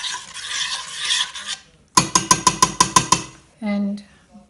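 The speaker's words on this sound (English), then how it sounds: "Stir those around." Crushed almonds are stirred into a Christmas biscuit mixture, with soft rustling first, then a quick run of about eight rhythmic scraping strokes close by, followed by a short clunk.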